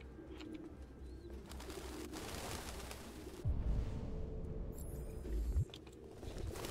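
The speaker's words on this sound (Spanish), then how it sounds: "Palomas." Pigeons coo in a Detroit: Become Human game scene, a low murmuring call heard amid ambient room noise with a couple of soft thumps, and no one talking.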